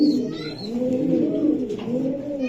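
A racer pigeon coos close by in a soft, low, rolling series of notes with no talk over it.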